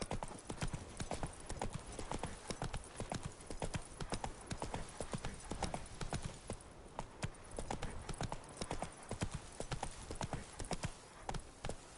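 Roach, the horse in The Witcher 3, gallops in a steady, rapid clip-clop of hooves that runs loud and close for the whole stretch, with no voices over it.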